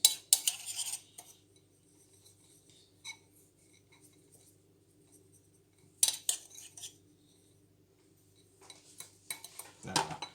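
A spoon scrapes and clinks around a bowl while sugar mixture is stirred, short bursts of metallic scraping separated by quiet pauses, close at hand.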